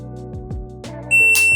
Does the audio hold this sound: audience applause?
no